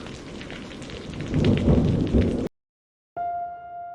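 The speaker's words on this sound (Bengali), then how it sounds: "ইতিমধ্যেই আকাশে বৃষ্টি নেমে গেল" Heavy rain pours with rumbling thunder swelling loudly, then cuts to near silence before a steady tonal hum enters near the end.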